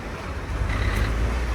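A speed boat on the Mattupetty Dam reservoir: a steady low motor rumble mixed with rushing water and wind buffeting the microphone, continuous and fairly loud.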